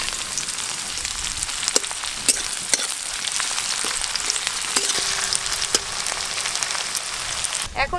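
Chopped onion frying in hot oil tempered with bay leaf and dried chilli, a dense continuous sizzle with crackles and occasional stirring clicks, loud and close with no speech.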